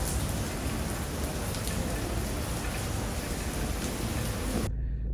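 Heavy rain pours steadily across an amusement park on a crowded Labor Day, a dense continuous downpour with no talk, cutting off abruptly just before the end.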